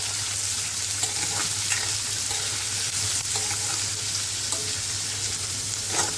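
Onions sizzle steadily in a hot pan while a spoon stirs them with soft, occasional scrapes.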